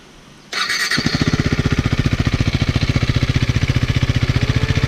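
A 2017 KTM Duke 390 motorcycle fires up after a brief quiet moment, then settles into a loud, steady, fast-pulsing single-cylinder idle up close, with a cooling fan whirring along.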